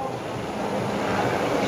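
Heavy rain falling during a stage of the 2018 Giro d'Italia cycling race, from Praia a Mare to Montevergine, a steady dense hiss and rush that holds evenly throughout without any talk.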